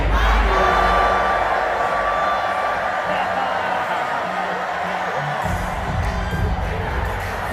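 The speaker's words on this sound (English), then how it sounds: "here is the footage of the crowd screaming out A minor" A huge Super Bowl stadium crowd screams and cheers in a sustained roar, with whoops and yells rising over a loud, steady wash of noise.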